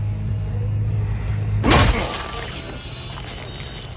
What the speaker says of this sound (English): You just love smashing radios, don't you?